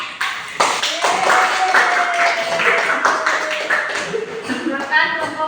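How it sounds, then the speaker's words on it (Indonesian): Students in a classroom clap for a group after its presentation, a loud, close burst of many hands with a sustained tone and people talking over it. "Boleh tepuk tangan."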